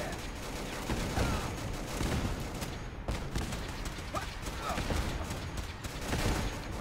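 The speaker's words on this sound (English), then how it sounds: "I'm shooting my own troops" Dense, continuous gunfire from a heavily modded Fallout 4 battle at Bunker Hill, rattling shots layered into a busy, loud combat mix with a voice talking over it.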